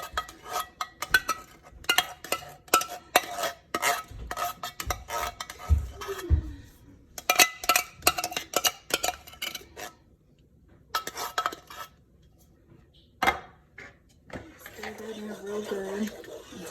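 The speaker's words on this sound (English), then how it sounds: "Pour the cream of mushroom into the broth. Give it a stir." A spoon stirs cream of mushroom soup into broth in a pot for cubed steak, clinking rhythmically in bursts against the metal with pauses, alongside some talking.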